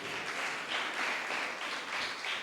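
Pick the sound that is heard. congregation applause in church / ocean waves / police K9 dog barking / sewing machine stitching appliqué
congregation applause in church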